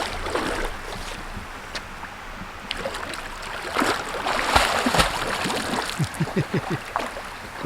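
A dog swimming and splashing in a small pond below a little dam, with irregular close water sloshes and splashes that grow busier toward the end, over a background of flowing stream water.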